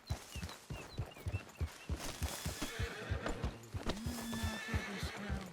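A horse in the Red Dead Redemption 2 video game clip-clops with a steady rhythm of hoofbeats, close and clear, then gives a loud whinny near the end as the hooves keep going.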